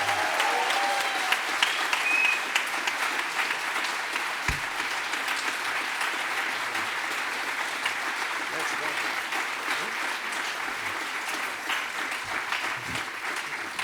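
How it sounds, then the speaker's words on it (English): Sustained audience applause from a seated crowd, steady and dense for the whole stretch with no break, at a lecture-style event as a speaker is introduced. "Please keep the applause going for Mr. Paul Mason."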